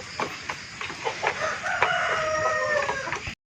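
Chickens, hens of Nickel Brown and Black Australorp stock, clucking close by in short, uneven calls, turning into a longer drawn-out call near the end, with no talking.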